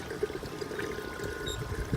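Water washing down an aquaponics deep water culture bed during cleaning, a steady pouring and trickling with small splashes and faint tonal hum underneath.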